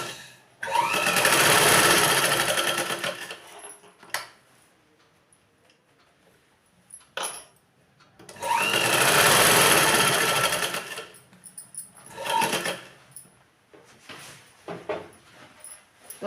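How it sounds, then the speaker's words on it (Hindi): A sewing machine runs in two long bursts, stitching the curved edge of circular palazzo pants. Each burst lasts a few seconds and is followed by quieter handling of the fabric and a few short clicks. "सबसे पहले हम यहाँ इसकी सिलाई लगा लेते हैं"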